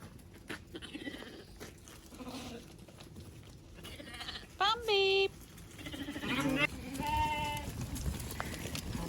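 Sheep and lambs bleat in a farm pen, several loud, wavering calls near and far, with people talking and shuffling movement between them.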